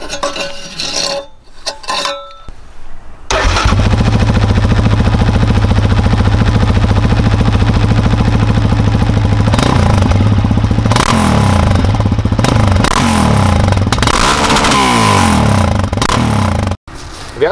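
Loud and close, a Yamaha Raptor 700R quad runs with the dB killer taken out of its exhaust, a harsh steady single-cylinder roar broken by repeated sharp revs before it cuts off abruptly.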